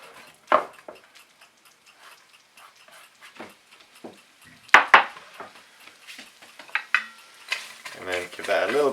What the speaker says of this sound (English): And now we'll go straight in with our potatoes and onions.